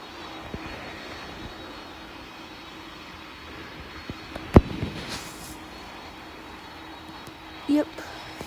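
A Korean Air jet airliner taxis at an airport, heard as a faint, steady engine whine and rumble from a distance inside a cockpit, with a few brief clicks and bumps.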